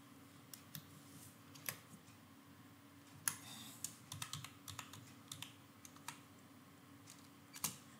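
Someone types C code on a computer keyboard, producing irregular, quiet key clicks and taps that are close by and spaced in short bursts over a low steady hum, with no talking.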